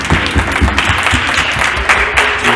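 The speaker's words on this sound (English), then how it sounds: "Can we give a round of applause?" Audience applause at a live panel event, a steady wash of clapping from a crowd that fills the whole stretch at even loudness, with a few sharper individual claps near the front.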